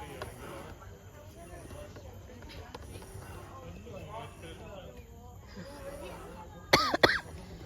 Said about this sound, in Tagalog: Oh my gosh, inuubo na ako.